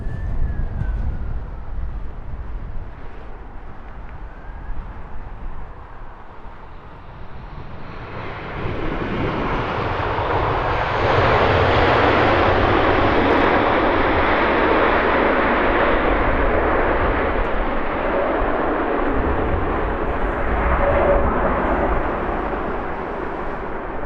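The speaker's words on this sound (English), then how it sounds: "Royal Jordanian just about to touch down here on 27 right." A Royal Jordanian airliner touches down on Heathrow's runway 27R and deploys thrust reversers: a steady jet roar under wind buffeting swells into a loud, sustained rumbling reverse-thrust wash halfway through.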